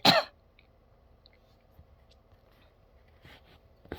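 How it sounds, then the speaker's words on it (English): A woman lets out a single short, close cough at the start, then the room stays quiet with faint rustling and a small throat sound near the end. "I'll be fully heathen enough to let y'all listen to me cough"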